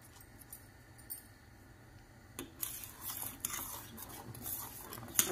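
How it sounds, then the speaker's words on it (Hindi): A spoon stirs stone sugar and masala into milk in a pot for kesar masala milk, giving soft scraping and irregular metal clinks that grow busier partway through, with no talking. "अच्छे से मिक्स कीजिए"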